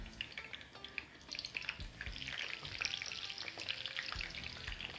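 Bell peppers and hot chili peppers crackle and spatter in hot oil for moussaka, a busy bright sizzle with popping bursts that swells a little as the frying goes on.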